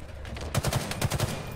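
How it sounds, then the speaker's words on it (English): Gunfire in an online shooter game on the Argyle map comes as two quick bursts of rapid, close shots separated by a short pause. "I'm shooting him"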